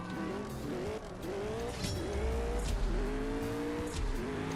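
Race car engines rev and roar together at the start of a CSR2 Racing video game race, a loud steady drone with rising pitch sweeps and faint tire squeal, alone without talk.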